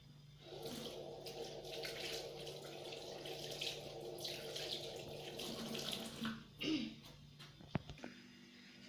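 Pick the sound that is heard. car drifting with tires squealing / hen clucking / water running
water running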